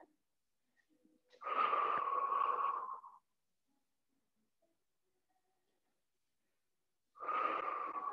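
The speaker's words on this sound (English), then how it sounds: "Inhale into the nose, and then exhale." Two slow, controlled breaths drawn audibly through the nose, the first a long airy rush followed by quiet, the second starting near the end, close and clear with no talk.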